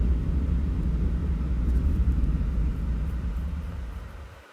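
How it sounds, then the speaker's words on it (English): A giant Loomian called Moldeka roars in the Roblox game Loomian Legacy, heard as a deep, sustained low rumble that rolls on for several seconds at steady loudness before slowly fading out, with no voices over it. "That noise you just heard came from Moldeka."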